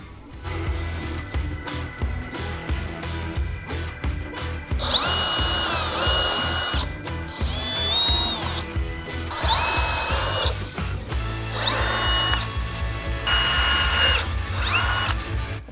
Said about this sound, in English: I'll drill some pilot holes from the back, and then I'll go ahead and drill from this side.